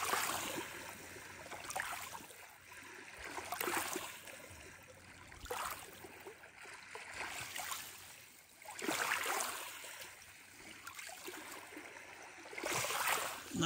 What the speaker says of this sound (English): Why are there so many waves? No boats here.